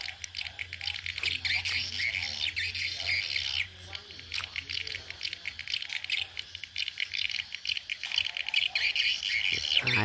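Swiftlets stream into a lightweight AAC brick swiftlet house in Vung Tau at dusk, a dense, continuous chorus of sharp chirps and squawks with rattling clicks. It sounds loud and close and fills the whole stretch.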